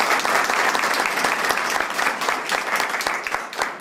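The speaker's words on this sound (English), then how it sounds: "How about a round of applause?" Audience at a Brownsville PUB board meeting claps for an employee's birthday, loud dense applause from a room of people, steady throughout and tapering slightly near the end, with no talk over it.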